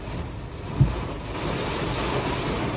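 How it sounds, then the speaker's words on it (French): Strong wind gusts roar through a street during a severe September thunderstorm in Indre-et-Loire, France, as a loud, steady broadband rush with one short thump. "Oh, les rafales de vent."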